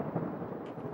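Thunder rumbles as a low, continuous roll, fairly quiet and distant, carrying on without a break and with no voices over it.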